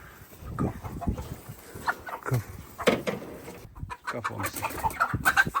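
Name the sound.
chickens clucking while being handled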